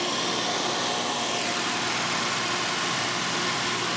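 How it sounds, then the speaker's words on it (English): An old barn-find BMW engine runs at a fast idle, a steady, even mechanical drone that holds without change throughout, fairly quiet and alone with no voices. "So it runs again, but still it's idling way, way too high."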